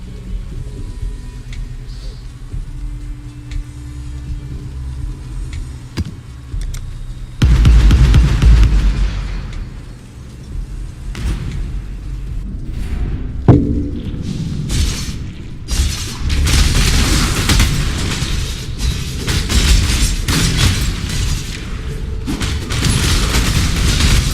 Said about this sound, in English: I love how everything explodes once it's bleeding.